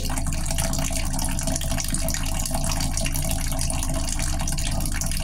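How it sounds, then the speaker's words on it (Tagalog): A weak trickle of tap water from a low-pressure household supply runs in a steady, continuous hiss close to the microphone, unbroken throughout with no talking. "Mahina po yung tulo."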